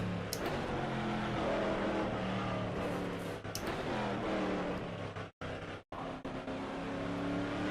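Hot-rodded 1970s family saloon touring car from an Aussie Legends mod for the rFactor 2 racing sim, its engine droning loud and close with shifting pitch, briefly cutting out twice near the end.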